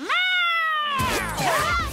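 A cartoon cat lets out a loud, drawn-out meow that bends in pitch, followed by a second wavering, yowling meow with busy background sound behind it.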